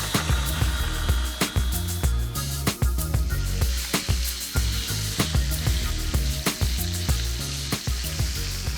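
Beef sizzles loudly in a hot pan for beef noodles, a dense, steady crackle and spatter close up, with occasional sharper pops and bumps throughout.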